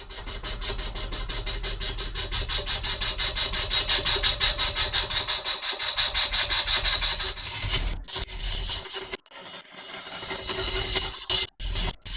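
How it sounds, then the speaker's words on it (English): A woodturning lathe squares up the wobbling front face of a large walnut log, the gouge cutting in a loud, steady rhythmic rasp that swells for about seven seconds, then breaks into shorter, uneven scraping bursts with brief gaps. "And then on to squaring up the front face, which has got about 1/2 inch or more of wobble on it."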